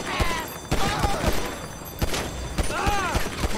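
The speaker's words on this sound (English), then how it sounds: "He's shooting at me." Gunfire from a shooter in GTA 5 crackles in several sharp, loud shots spread unevenly over a few seconds, with a player's voice talking and reacting between the bursts.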